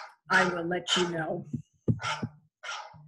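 Barking-dog ringtone plays in short bursts, cutting in around a person speaking nearby.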